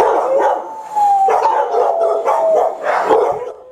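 Dogs at a flood-hit animal shelter barking and howling, several close, loud yelps and drawn-out howls overlapping in rhythmic bursts, with no talking.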